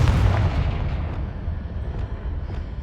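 A Confringo fire spell blast in Hogwarts Legacy, a loud booming burst at the start that rolls off into a fading rumble.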